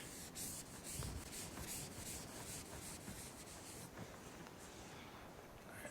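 Continuous scraping rub of a duster wiping chalk off a lecture-room board, steady back-and-forth strokes close up with no speech over them.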